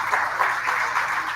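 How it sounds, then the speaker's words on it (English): An audience at a live fan event in Buffalo claps continuously in a dense, steady wash of applause, fairly loud and without speech over it. "how about a big round of applause for Mill Thompson?"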